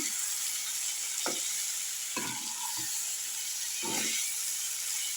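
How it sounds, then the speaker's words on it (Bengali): Potato curry sautéing in a pan gives off a steady, bright sizzle throughout, broken by a few short scraping strokes of a spoon stirring the pan. "ঠিক আছে এটা কষা হোক"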